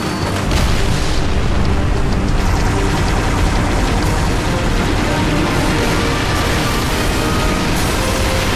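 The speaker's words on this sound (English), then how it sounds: "Acquiring signal lock on the pylon. Detonating in 3," A pylon detonates in a Halo cutscene, a massive continuous roaring blast that rumbles loud and sustained for several seconds with crackling debris throughout.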